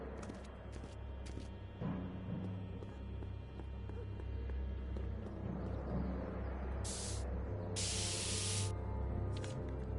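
Several short hissing bursts from a spray can, two brief ones then a longer sustained spray and a final quick puff, heard over a low background hum.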